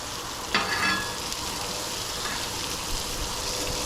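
Hot dogs frying in bacon grease in a pan give a steady, loud, close sizzle that holds throughout, with a brief sharper crackle near the start and no talking over it.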